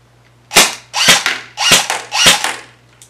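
A Socom airsoft-style gun fires four crisp, evenly spaced single shots in semi-auto, loud and close, with a faint click at the end.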